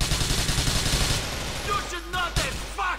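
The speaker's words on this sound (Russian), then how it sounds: "Сейчас я аккуратненько выстрелю в него." Gunfire in Grand Theft Auto IV, a rapid burst of shots for about a second followed by quieter game effects and faint squeals.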